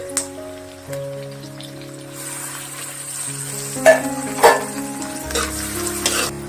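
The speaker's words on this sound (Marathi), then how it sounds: "आता आपल्याला टोमॅटो घालायचे" Tomatoes tipped into onions frying for South Indian sambar, a sizzle building in the pan under a steady tonal background hum, with a few louder bursts of crackle and stirring toward the end.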